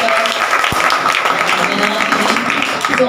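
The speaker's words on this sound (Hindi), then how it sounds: "जोरदार तालियां सभी के लिए" Audience clapping at a neurologists' association event for a children's academy, a continuous loud wash of applause with voices faintly mixed in beneath.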